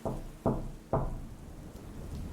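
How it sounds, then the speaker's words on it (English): Three loud, heavy knocks on a wooden cabin door in the woods at night, spaced about half a second apart and booming with low thuds, followed by a quiet room hum. "there was a loud knock on my door again"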